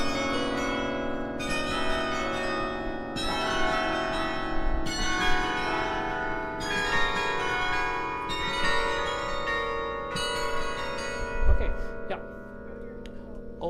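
Heavy carillon bells rung as a practice exercise, sounding in a steady repeated pattern of struck bell strikes with long overlapping resonant hum, each new group entering loudly over the lingering ring.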